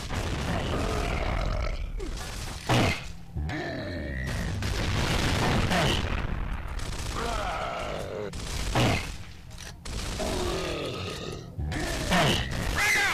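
Rocket explosions in the Gears of War video game boom repeatedly amid dense, chaotic battle noise, with grunts and game voices mixed throughout the loud, continuous mix.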